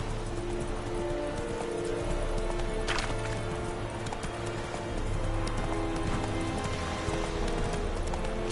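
A horse gallops in the video game Witcher 3, with steady hoofbeats running continuously throughout, mid-loud over sustained tonal background sound.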